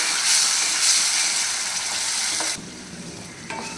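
Spice paste being stirred into fried onions for a Bengali-style mushroom curry with potato and capsicum: a loud, close sizzle and frying hiss with spoon scrapes, easing off partway through, with a couple of stirring knocks near the end.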